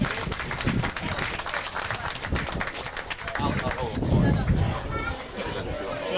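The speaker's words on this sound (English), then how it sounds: "Can we have a round of applause for Rebecca?" Applause from a crowd at a school prize-giving for a best-pupil award winner: steady, dense clapping throughout, loud and close, swelling slightly near the end, with voices mixed in.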